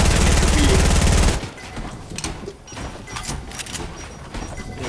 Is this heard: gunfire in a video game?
yes